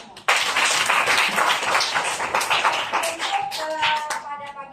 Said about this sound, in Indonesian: Ya, kita tepuk tangan untuk kita semua.